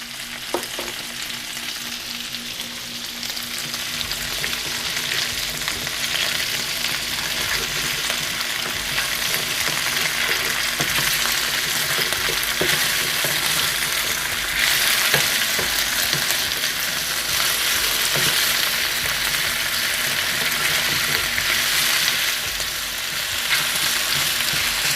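Food seasoned with paprika fries in a de Buyer carbon steel pan, giving a steady, bright sizzle that holds at a loud, even level throughout, with occasional faint stirring clicks and no talking.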